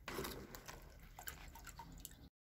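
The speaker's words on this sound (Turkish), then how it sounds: "sularının süzülmesi için kevgire alıyorum" Water trickles and drips steadily from olives just rinsed in plenty of water and set in a colander to drain, a close, low wet patter that continues throughout.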